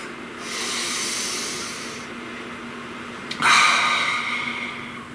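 A slow deep breath drawn in and let out close to the microphone, a soft airy inhale swelling and fading, then a sharper, louder exhale rushing out, with no voices.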